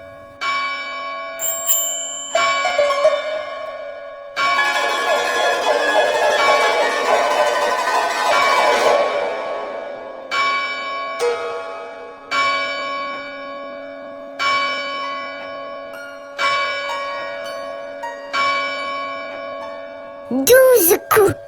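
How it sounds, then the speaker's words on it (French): A village church bell tolls noon in a children's story, clear resonant strokes repeating at a slow, even rhythm with long ringing decays, alone without talk. "Déjà, la cloche du village sonne midi."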